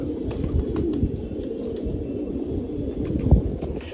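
A loft full of pigeons coos steadily in a low, dense murmur, many birds overlapping close by, with occasional sharper chirps and faint rustles on top.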